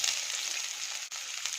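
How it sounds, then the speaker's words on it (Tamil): Chopped medium-size onion frying in hot oil in a pan for veg cutlets, giving a steady bright sizzle that stays loud and even, with one brief dip near the end. "ஆட் பண்ணிட்டு நல்லா ஃப்ரை பண்ணிக்கோங்க."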